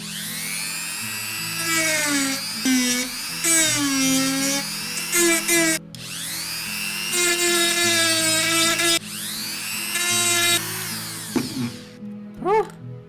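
A Dremel rotary tool cutting into a model part, a loud whining high-pitched drone that rises and falls in pitch as it bites and spins down, in repeated bursts over about thirteen seconds.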